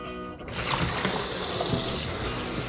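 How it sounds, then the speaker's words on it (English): Fresh cilantro swished and sloshed in a sink of water, a steady rushing, splashing wash that starts abruptly and continues evenly, close and fairly loud, with no voice. "Is there a better way to wash your cilantro?"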